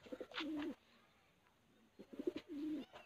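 A high-flyer pigeon coos twice nearby, soft throaty rolling calls with a short quiet gap between them.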